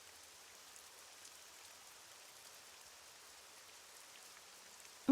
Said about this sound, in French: La pluie ne devrait gêner personne.